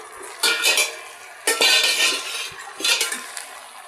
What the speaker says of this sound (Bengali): এই যে পেঁয়াজের কালি আমি চুলার উপরে দিয়ে দিছি একবারে তেলের উপর দিয়েই ভাজি করছি